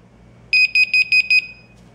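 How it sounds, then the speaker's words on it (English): A WiFi home security system alarm tone beeps five times in quick, even pulses, loud and close, then stops, over a faint low hum. "So that will be the alarm sound, and it will be at the lowest noise."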